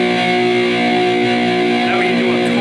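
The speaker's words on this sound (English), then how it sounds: "Chords should always sound like this" A distorted electric guitar chord rings out loud and sustained, a dense buzzing wall of harmonics held steady throughout with no talking.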